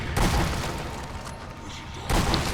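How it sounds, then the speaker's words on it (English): Two heavy explosions in the zombie shooter Sniper Elite Nazi Zombie Army, a loud booming blast at the start and another near the end, with a lower rumbling tail between them. "Now we're starting to get some explosions."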